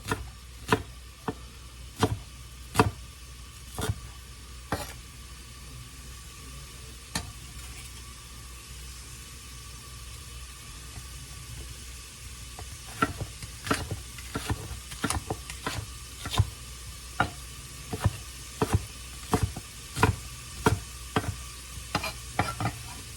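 Onion sizzling in a pot as chili gets started, a steady soft frying hiss broken by repeated sharp scrapes and clacks of stirring, close and with no talk.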